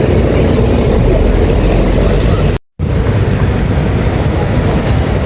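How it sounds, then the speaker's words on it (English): Loud, steady rumble of a London Underground train running, broken by a sudden brief gap of silence before the roar resumes. "so here's the train."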